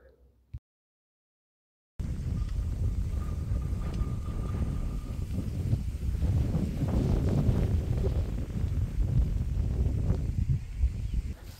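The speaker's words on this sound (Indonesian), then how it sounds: "kondisinya lumayan berangin" Steady roaring wind on Mount Ungaran buffets the microphone with a low rumble, loud and continuous after a brief quiet start.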